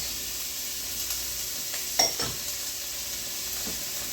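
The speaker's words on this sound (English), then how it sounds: "We're gonna drop the onions in first. With the peppers." Onions and peppers hit a hot pan for Mexican picadillo, giving a steady close sizzle with a brief louder burst of spatter and stirring scrapes in the middle, no talking.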